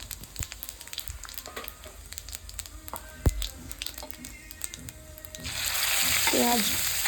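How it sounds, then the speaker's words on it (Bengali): Raw cumin seeds tempering in hot oil in a pan after frying bhetki fish, crackling and popping irregularly with stirring clinks, then swelling into a loud, steady sizzle toward the end. "এবার ওই প্যানে দিয়ে দিলাম কাঁচা জিরে ফোড়ন,"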